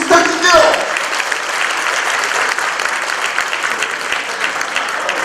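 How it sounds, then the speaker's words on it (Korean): An audience at a Korean public agency talk concert breaks into warm applause for a speaker invited onto the stage, a dense, sustained clapping that holds steady to the end after a brief voice at the start. "뜨거운 박수 부탁드릴게요."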